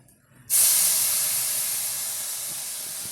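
Turmeric water hitting a hot pan while fish biryani cooks, a sudden loud sizzling hiss bursting in after a quiet moment and then fading slowly as it settles, with no talking.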